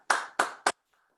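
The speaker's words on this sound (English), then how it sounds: "just clapping on mute" Three sharp hand claps in quick succession, loud and close, with silence after.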